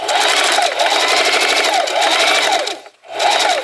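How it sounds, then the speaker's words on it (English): Singer Heavy Duty sewing machine back stitching, its motor buzzing loudly and continuously with rhythmic needle chatter, stopping briefly near the end and then restarting, close by. "I'm going to put a needle down and a back stitch"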